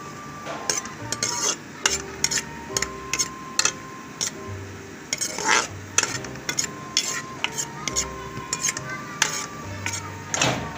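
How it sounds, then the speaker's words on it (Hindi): Onions go into hot oil in a pan for moong dal fry and sizzle while a spoon scrapes and clinks against the metal in repeated stirring strokes, loud and close, with no talking. "ये मैं प्याज शामिल कर रही हूँ।"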